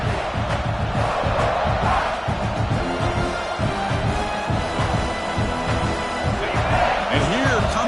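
Loud, sustained stadium crowd roar in the College Football 25 video game, filling the whole stretch, a dense wall of cheering and shouting voices with a few rising yells.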